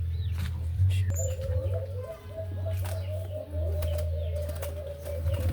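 Alimokon doves and kulasisi parakeets flutter and coo nearby, with soft wing flaps and calls over a steady low hum throughout.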